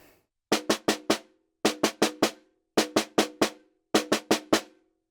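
Snare drum single stroke four rudiment led with the left hand, four bursts of four rapid alternating strokes with brief gaps between, crisp and close without talk.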